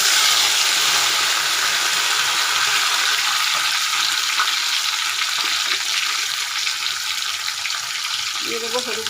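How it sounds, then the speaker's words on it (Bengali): Shrimp frying in mustard oil with salt and turmeric sizzle with a loud, dense hiss up close that eases slightly over time, ending with a brief clatter. "চিংড়ি মাছটা সর্ষের তেল দিয়ে দিয়েছি চিংড়ি মাছটা দিয়ে দেবো"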